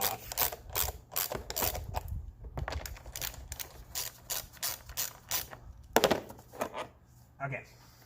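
A ratchet wrench loosens bolts on a Toyota Corolla engine, with repeated close clicking bursts in an irregular rhythm and a few louder metallic knocks.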